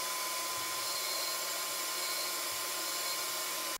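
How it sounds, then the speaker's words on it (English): Loud, steady roar of a shop vacuum motor with airy suction hiss as it sucks up dirt from a saltwater reef aquarium, running throughout and cutting off abruptly at the end. "grab our shop vac or vacuum cleaner, take the hose and suck that dirt right off"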